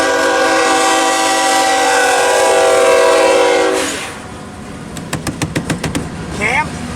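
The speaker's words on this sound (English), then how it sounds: "Here comes the northbound BSF manifest." A northbound BNSF manifest freight train passes at Tehachapi, its loud horn blaring in a long sustained blast, then fading into rhythmic wheel clatter with a voice and whistle near the end.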